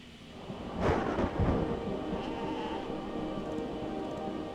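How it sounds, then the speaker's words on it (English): Rain and a rolling thunderclap in Spyro 2: Ripto's Rage, a loud rumble peaking early and trailing off into a steady wash of rainfall. "Is this rain ever gonna stop?"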